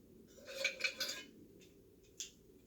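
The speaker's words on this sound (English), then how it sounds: "It's the Yugoslavian mess kit" A metal Yugoslavian mess kit is handled close up, giving a few light ringing clinks and taps in a quick cluster, then one more clink after a pause.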